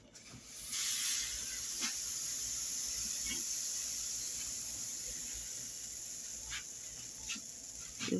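Pancake batter hisses and sizzles in a hot pan, a loud burst of frying as it lands, then a steady crackling hiss with a few soft clicks and taps of utensils.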